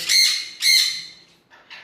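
Two loud, harsh squawks from a nearby bird in quick succession, followed by a couple of fainter, shorter calls.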